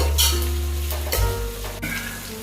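Onions and masala with ginger-garlic paste fry in a pan, a steady loud sizzle with stirring scrapes throughout, no voices.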